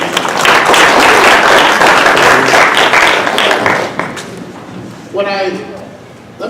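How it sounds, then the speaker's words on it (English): A round of audience applause at a parent conference's opening, many hands clapping loudly for several seconds before tapering off, followed by a speaker starting to talk. "let's give him a nice round of applause, please."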